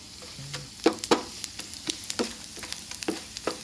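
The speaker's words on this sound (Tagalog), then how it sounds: "So nagluto po ko direk bulinaw guys, dilis." Dried anchovies (dilis) fry in a pan, giving irregular sharp pops and crackles over a soft continuous sizzle, close by.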